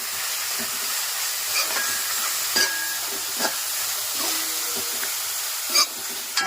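Small onions sautéing in a pan for a taro curry give a continuous hissing sizzle, broken by a few sharp scrapes and taps of a spoon against the pan, with no voices.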